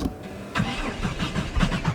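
A worn-out truck engine in the Project Zomboid video game cranks repeatedly without catching, a steady stutter of starter whirs close and fairly loud for two seconds.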